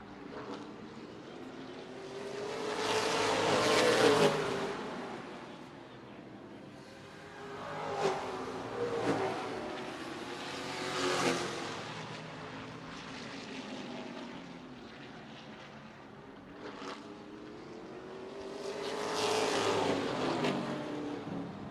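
Late model race cars roaring around Redwood Acres Raceway, engines swelling as the pack passes close by, fading, then surging again in repeated waves of loud, droning motor noise.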